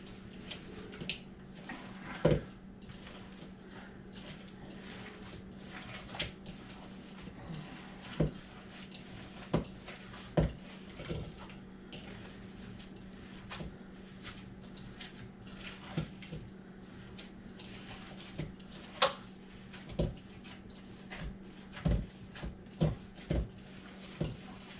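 Meatloaf mixture of ground meat and breadcrumbs mixed by hand in a bowl: soft, irregular squelches and occasional sharper taps against the bowl, spaced unevenly over a steady low kitchen hum.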